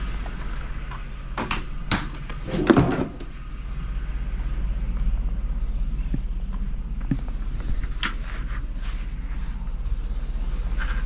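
A side door opening while someone is out garbage picking in the morning: a sharp clatter and bump stand out against a steady outdoor hum, with scattered footstep-like knocks before and after.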